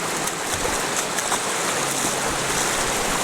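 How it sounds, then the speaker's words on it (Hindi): River water rushes steadily during a mountain trek crossing, a continuous broadband wash with no pauses, close and fairly loud, with no talk over it. "हर 100 मीटर पर एक नदी पार करनी पड़ रही है।"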